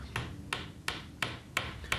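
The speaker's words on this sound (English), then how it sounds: "Whilst the clamp is in place, hammer in the pre-glued dowels." Six sharp hammer blows drive pre-glued wooden dowels into the joints of a traditional carpenter's workbench, struck at a steady, evenly spaced rhythm, close and clear against a quiet room.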